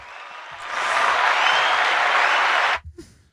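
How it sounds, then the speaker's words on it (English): Cheering applause sound effect played from a button, a dense burst of clapping and crowd noise that swells in, holds steady and cuts off abruptly, followed by a brief faint murmur. "Is there a cheering button?"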